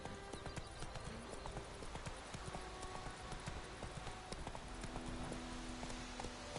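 Roach, a horse in The Witcher 3, trots along a road with steady, rapid clip-clop hoofbeats, close and continuous throughout, with faint ambient game sound beneath.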